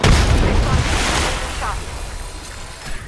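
A frag grenade explodes in Apex Legends, a loud, deep boom at the start that rolls off into a long rumbling tail, with a voice talking over the game sound.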